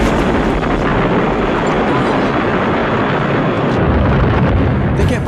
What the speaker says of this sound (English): the dropship gets rocked by a nuclear explosion